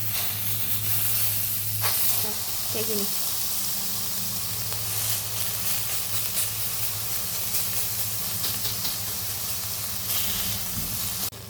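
Satay cooking in a hot frying pan gives a continuous, fairly loud hiss and sizzle with occasional crackles, a low hum underneath, and a brief spoken remark.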